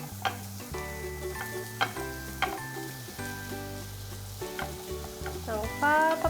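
Onion and paprika stir-fry in an oiled frying pan, a steady close sizzle broken by repeated spatula scrapes and taps against the pan, no voices.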